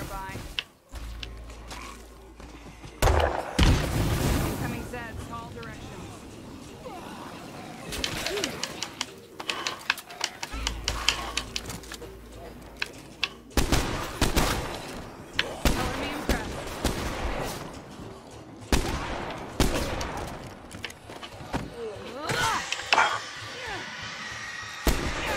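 Gunfire in the zombie survival video game State of Decay 2, sharp repeated shots and impacts scattered through a busy mix of game sounds, with someone talking over much of it.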